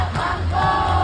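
A crowd cheering at Holy Cross of Davao makes a loud, steady roar of many voices that fills the whole brief moment without a break.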